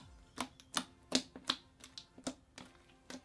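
Thick clicky slime worked by hand, bearing flame beads and a lemon poppy seed batter scent, gives a rhythmic series of sharp, close, crisp clicks and pops, roughly two to three per second, with no talking.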